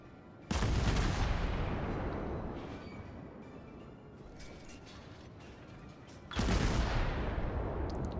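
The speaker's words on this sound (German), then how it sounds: "Und wir können einfach weiterhin alle unsere Schüsse raushauen und hier uns austoben." Heavy naval gunfire from a warship in World of Warships: two loud, booming salvos a few seconds apart, each followed by a long rumbling decay, with no talking.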